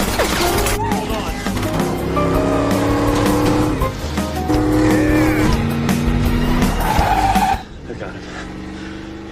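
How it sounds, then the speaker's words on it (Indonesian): Two cars chase and overtake each other on a highway, with roaring engines and squealing tires across a loud, busy scene. A brief spoken line cuts in before the roar drops away near the end. "Kejar-kejaran sengit pun terjadi di jalan raya. Kedua kendaraan saling salip sambil berusaha mengungguli satu sama lain."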